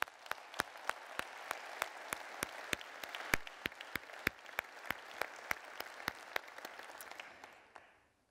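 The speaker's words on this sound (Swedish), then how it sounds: "En varm applåd!" At a Christian Democrats political conference in Örebro, Sweden, an audience claps in unison, a crisp, evenly spaced beat of sharp rhythmic claps over a softer bed of applause that stops abruptly near the end.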